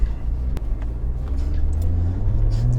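A Lotus Evora 400 sports car pulls away in first gear, its engine note rising steadily from a low rumble with a sharp click early on.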